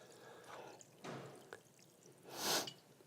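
Water pours gently from a mason jar through a sprouting lid spout in a few short, soft splashes and trickles, the last pour the fullest, heard close and quiet.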